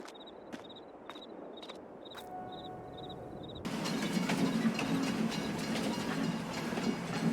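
A train arrives in the video game Farming Simulator 22 as a quiet ambience with rhythmic chirps gives way partway through to a louder, broad rolling rumble of rail noise.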